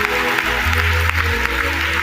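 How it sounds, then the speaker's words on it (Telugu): A congregation claps during a Telugu Christian sermon, a dense wash of hand claps over a low background hum for a couple of seconds. "కొట్టు చప్పట్లో,"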